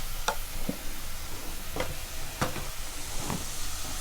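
Small onions sauté in a pan with a soft, continuous sizzle, broken by several sharp scraping clicks as a spatula stirs them, close and moderately quiet.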